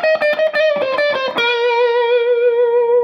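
An electric guitar with distortion rips through a fast descending lick from a solo, a rapid run of notes that lands on a long sustained, singing note, loud and close with no talking.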